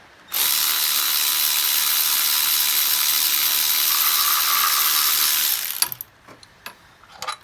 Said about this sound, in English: So we're just going to use the power tool.